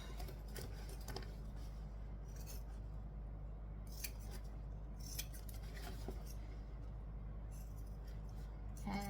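Scissors snipping away excess fabric at a seam, a run of light, quick metallic clicks and cuts scattered over a low steady background hum, fairly faint and close.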